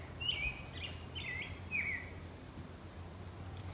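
Birds calling in the woods: three or four short, clear chirping calls in the first two seconds, fairly close, over a low steady background rumble with no talking.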